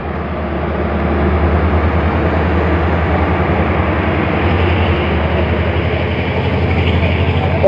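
Allama Iqbal Express train pulling into Pattoki railway station, a continuous heavy rumble of wheels and carriages rolling steadily past at close range, loud and unbroken with faint background noise.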